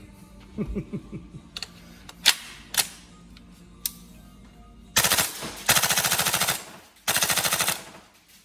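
An upgraded Tokyo Marui M4 CQBR gas blowback airsoft rifle firing outdoors, a few single sharp shots first, then loud rapid full-auto bursts of clacking blowback cycling, close to the listener.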